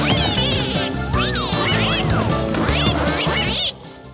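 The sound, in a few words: cartoon ducks quacking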